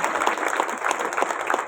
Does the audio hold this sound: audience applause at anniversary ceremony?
yes